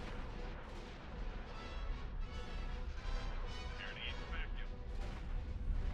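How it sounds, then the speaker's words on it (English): Explosions ripple across a station ring and its defensive modules in a space battle in the X4 Foundations game, a run of heavy booming blasts and crackling gunfire, with someone talking over the din. "I see some explosions over there on the ring"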